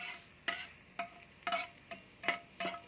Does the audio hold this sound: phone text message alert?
no